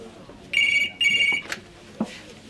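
Two electronic telephone rings in a British village soap-opera home, each ring a bright warbling burst about half a second long separated by a brief pause, followed by a faint click and a soft thud.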